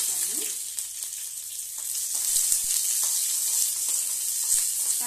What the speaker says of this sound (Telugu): కొంచెం ఒక హాఫ్ టేబుల్ స్పూన్ ఆయిల్ వేసుకొని పచ్చిమిర్చి కూడా వేయించుకోవాలి.